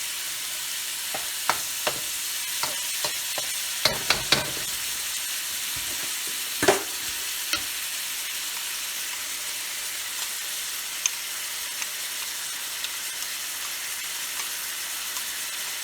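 Ground meat for sloppy joes browns in a hot pan with a constant loud sizzle, broken by scattered scrapes and taps of a utensil stirring, heavier in the first seconds, then mostly steady frying.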